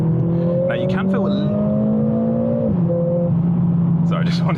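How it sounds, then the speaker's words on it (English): Exhaust of a Mercedes-AMG CLA45s being driven on wet roads, a steady droning engine note rising slowly then dropping as it shifts, loud and continuous inside the cabin with bits of talk over it. "I just wanted to hear that exhaust."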